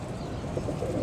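Soft, low pigeon cooing murmurs steadily at close range, with a few faint chirps above a muffled background.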